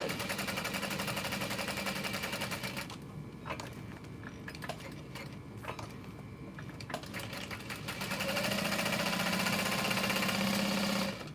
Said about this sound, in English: stitch length set to 5 just to top stitch these handles